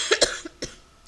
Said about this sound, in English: Still got the COVID cough.